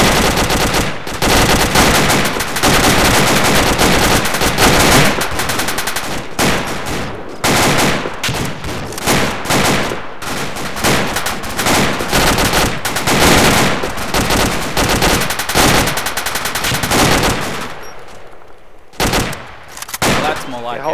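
Sustained machine gun fire in a video game during the AEF 2CAV mercenary campaign mission: loud, dense rapid bursts that run almost continuously, broken by a few short gaps, close and dominating throughout.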